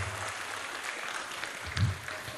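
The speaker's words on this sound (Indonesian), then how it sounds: "tepuk tangan untuk warga Kendalsari" An audience at a Gambus Misri workshop event applauds the Kendalsari villagers. A steady patter of clapping runs throughout, with a brief louder swell near the end.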